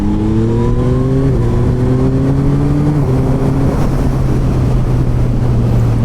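Yamaha MT-09 motorcycle pulling hard in third gear, engine pitch climbing in steady steps with brief dips between, loud and close over wind rush.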